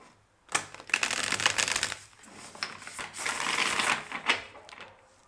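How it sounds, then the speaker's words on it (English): Cards riffle and snap in two bursts of rapid fluttering clicks, close up, with a short pause between shuffles and no speech. "Wait, I will shuffle first."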